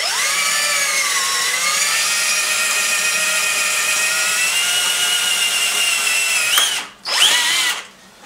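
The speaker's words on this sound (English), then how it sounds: "There, I've got a starter hole, so now we'll drill" A power drill bores a quarter-inch hole through a motorcycle part, whining steadily and loud up close for several seconds before slowing, dipping, briefly spinning up again and stopping.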